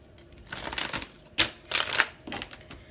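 Tarot cards being shuffled by hand at close range, with several irregular bursts of quick, crisp riffling and slapping separated by short pauses.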